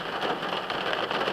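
Steady rain drums on a vehicle windshield, a dense, even patter with scattered sharper drops and no pauses, fairly loud and close throughout.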